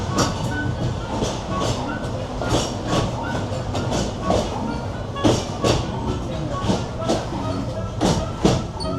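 Disneyland Paris park train running on rails, with rhythmic clickety-clack of wheels over rail joints, a low rumbling carriage and occasional hiss, heard up close while people talk over it.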